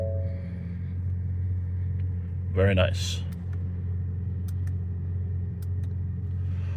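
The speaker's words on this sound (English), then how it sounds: "put your foot on the brake and hit the button to start" A 2023 Ford Escape ST-Line is started by push button and settles into a steady low idle hum. It sits close and constant beneath a person speaking briefly.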